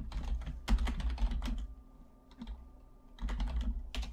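Close, steady clatter of a computer keyboard being typed on in two bursts separated by a short pause, with no talking over it.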